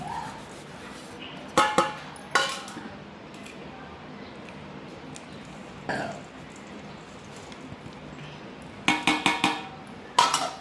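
Peanut powder, flax seeds and ragi flour being stirred into thick jaggery syrup in a pot, with a few sharp spoon scrapes and sticky knocks in short clusters separated by quiet stretches.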